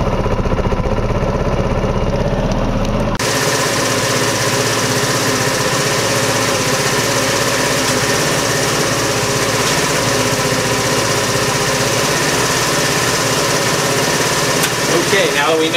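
A scooter engine idles steadily and loudly throughout while its carburetor idle set screw is adjusted, a continuous close-up buzzing drone with a brief change near the start.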